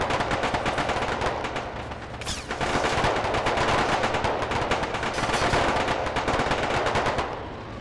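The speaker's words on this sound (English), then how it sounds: "they're about to engage in a firefight with the separatists" Sustained gunfire from a video-game firefight between Iranian army marines and Arab separatists: dense, rapid automatic bursts that run continuously and loudly, with a brief lull partway through before the shooting resumes.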